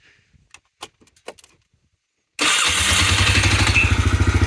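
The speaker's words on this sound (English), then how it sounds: "Starter is a little bit noisy" A few faint clicks and clanks, then a slightly noisy starter motor on a quad ATV abruptly cranks the engine with a loud, rapid, rhythmic churning that continues steadily to the end.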